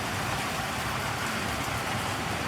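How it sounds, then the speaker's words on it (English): Heavy rain pours outside a balcony garden, a dense, even hiss of downpour that holds steady and fairly loud throughout with no voices. "is it ever pouring rain here now?"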